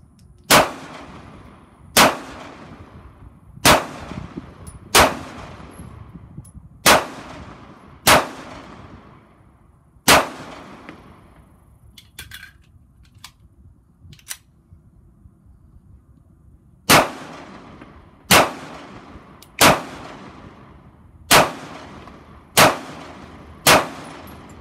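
Pistol fired at a shooting range: loud, sharp reports spaced about a second and a half apart, a run of seven, a pause of several seconds, then six more at the same steady pace.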